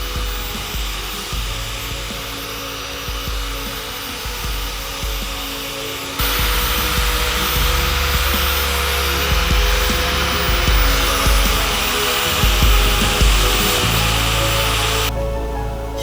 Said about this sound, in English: I'm going to use a handheld sander, take my time, and clean it up all the way through the grits.